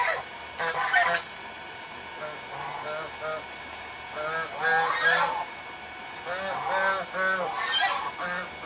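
Geese on a farm honk in repeated bursts of nasal calls, several clustered in quick sequences at moderate distance, with a low background hum between them.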